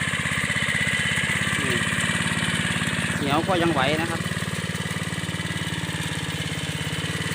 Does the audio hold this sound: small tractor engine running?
yes